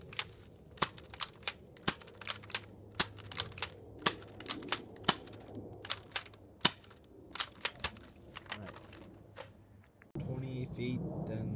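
Modified Nerf Maverick blaster firing Elite foam darts, a rapid series of sharp, close pops and clicks in an irregular rhythm for about ten seconds, followed by a steady low rumble.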